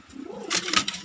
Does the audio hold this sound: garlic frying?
no